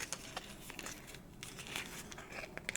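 Something is ripped off during a close-up ASMR cranial nerve exam, giving soft crinkling and tearing rustles close to the microphone, quiet and continuous for a few seconds.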